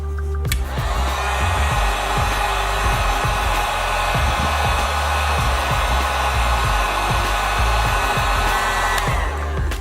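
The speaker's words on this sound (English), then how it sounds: "We'll just go ahead and use the heat gun on it again." Heat gun warming the adhesive under a BMW emblem, heard as a loud steady blower roar that switches on and runs continuously for several seconds before cutting off.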